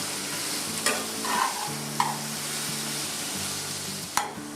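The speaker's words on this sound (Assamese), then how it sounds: "বাঁহৰ গাজখিনি দি আমি সুন্দৰকৈ তল ওপৰ কৰি দিম।" Bamboo shoots stirred and turned in a frying pan, a continuous close sizzle marked by a few distinct scrapes and knocks of the spatula.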